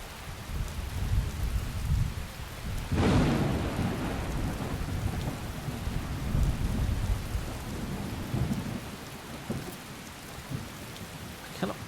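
Thunderstorm with steady heavy rain in the video game Skyrim, a loud thunderclap cracking partway through and rumbling on over continuous rainfall, with no voices.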